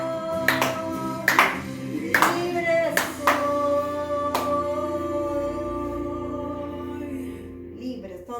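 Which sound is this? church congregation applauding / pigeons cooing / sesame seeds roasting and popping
church congregation applauding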